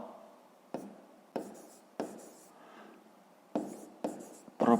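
A pen writing out a math solution on paper, close and quiet, heard as short bursts of scratchy strokes separated by pauses and sharp taps as the pen lands, with no talk.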